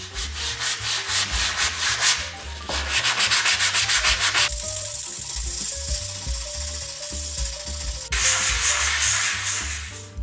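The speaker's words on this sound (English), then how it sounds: "then I tried sanding the walls as well as I could" Repetitive scraping strokes of sanding rasp steadily against a surface, rhythmic back-and-forth rubbing with some pauses and changes in texture.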